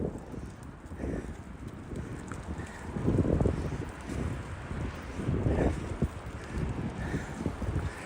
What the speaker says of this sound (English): Yeah, the wind is strong.